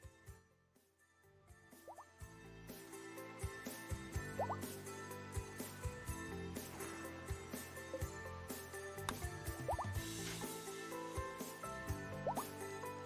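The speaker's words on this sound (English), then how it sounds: "Oh, finally, the rain coming in." Steady rain in the video game Rimworld, a dense continuous wash with scattered drips and plops over a constant background, with no talking.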